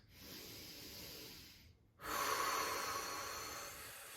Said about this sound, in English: Just kind of take some deep breaths.